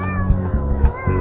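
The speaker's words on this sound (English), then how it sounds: "someone's getting attacked by the cats" Cats meowing in the video game Thirty Flights of Loving as they attack someone, several short yowls in a steady rhythm over a sustained musical drone.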